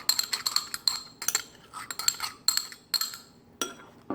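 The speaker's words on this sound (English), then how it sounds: "Now we're just going to mix that all together." Clinking of a utensil against a bowl while mixing breadcrumb mixture with buttered garlic, a quick irregular series of bright taps and scrapes, close and clear with no talk.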